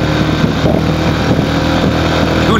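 A 2018 Royal Enfield Himalayan motorcycle engine runs while riding, a loud, steady throbbing drone that holds one pitch the whole time and is heard close up with no talking.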